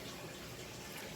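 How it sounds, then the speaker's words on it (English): A brief, faint rush of running water while rice is washed, steady and close. "Always wash your rice."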